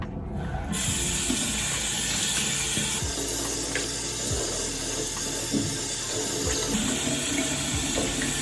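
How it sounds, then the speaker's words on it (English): Warm water runs steadily from a bathroom tap into a sink while someone washes their face, a continuous close hiss with splashing shifts and a low rumble partway through; no talking. "first I'll wash my face with warm water"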